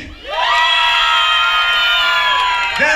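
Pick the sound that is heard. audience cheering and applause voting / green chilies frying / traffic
audience cheering and applause voting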